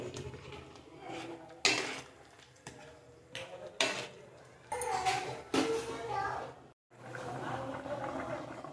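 Mixed-vegetable fena bhat (soft rice cooked with assorted vegetables) is stirred in a cooking pot. A spoon scrapes and clanks in several sharp bursts against a busy background murmur, with faint voices in the room.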